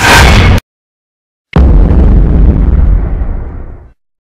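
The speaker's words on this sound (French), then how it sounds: "aujourd'hui je vous fais la présentation de ce canon à air comprimé." A homemade compressed-air cannon built from an old powder fire extinguisher fires twice: a short loud blast cut off abruptly, a pause, then a second powerful boom followed by a long roaring rush of escaping air that tapers off.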